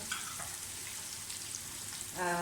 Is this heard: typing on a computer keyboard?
no